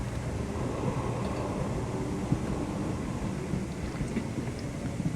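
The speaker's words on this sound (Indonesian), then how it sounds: "kita di kereta, lagi hujan-hujan" A train rides through a rainstorm in the Sherlock Holmes: The Awakened video game, a steady rumbling roll with rain hiss and a low thundery drone, continuous and fairly loud, with no talk.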